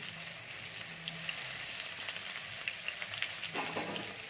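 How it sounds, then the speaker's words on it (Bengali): Finely chopped onions fry in hot oil for an okra do pyaza, a steady, moderately quiet sizzling hiss with occasional soft crackles and a stir near the end, with no talking. "আমি এবার কুচানো যে ছোট ছোট কুচিয়ে রেখেছিলাম পেঁয়াজগুলো সেগুলো আমি দিয়ে দিচ্ছি।"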